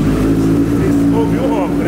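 A Honda CB1000 motorcycle engine runs up close with a loud, deep, steady rumble that rises in pitch as it revs near the end.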